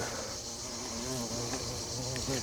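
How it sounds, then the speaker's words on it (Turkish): Insects buzz steadily up close, a continuous droning hum with no talking. "Arı da bir böcektir altı ayaklı."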